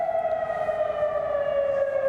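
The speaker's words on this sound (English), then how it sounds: "Air raid sirens across Oman." Air raid siren sounding across Oman during an Iranian missile and drone barrage, a steady loud wailing tone with strong harmonics that slowly dips in pitch, heard alone with no voices.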